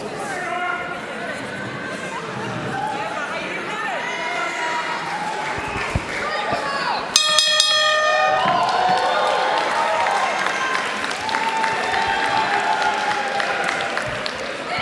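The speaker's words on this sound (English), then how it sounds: "And a cheer goes up." Crowd cheers and claps at a live IPW wrestling show in Hamilton as two women wrestlers lock up in the ring, the noise swelling midway with a sharp burst, while a commentator talks over it.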